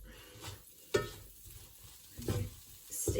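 Black beans frying in oil in a pan for a quesadilla filling, soft sizzling broken by a few scraping stirs, close and fairly quiet.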